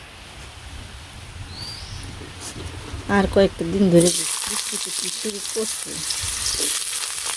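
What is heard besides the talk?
potatoes frying in oil in a wok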